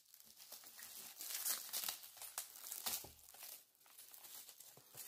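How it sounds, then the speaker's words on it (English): Close, loud crinkling and tearing of paper wrapping on a Derwent Metallic pencil set, in irregular bursts, crackling on and off with brief pauses. "So let's just unwrap it and see what it looks like inside."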